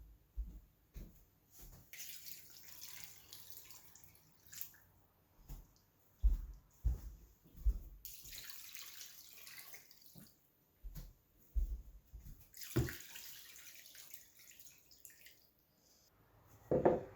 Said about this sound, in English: I'm next going to add 4 cups of water to each pot.